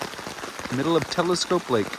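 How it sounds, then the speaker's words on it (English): Rain pattering on a tarp over a tent at a campsite on Telescope Lake in Woodland Caribou Provincial Park, a steady close patter running under someone talking. "Rainy day on Telescope."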